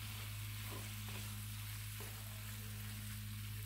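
Mixed vegetables fry and sizzle steadily in a pan while being added to macaroni, with a constant low hum underneath and a few soft stirring scrapes.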